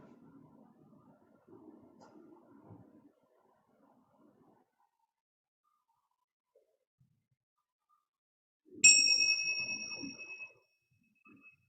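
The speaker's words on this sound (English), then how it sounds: "I will ring a chime here in a second to end." A meditation chime is struck once to close a session, ringing out clearly and then fading over about two seconds, following earlier stretches of soft speech and near silence.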